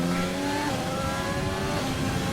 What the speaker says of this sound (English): So that engine sounds absolutely beautiful.